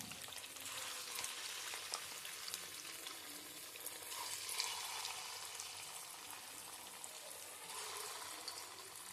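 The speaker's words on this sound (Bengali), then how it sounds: "আমি আরও কিছু চিকেন বলসগুলোকে সেম প্রসেসে ভেজে নেব।" Chicken balls for chicken Manchurian frying in oil in a wok, a continuous dense sizzle and crackle at moderate level, with no one talking.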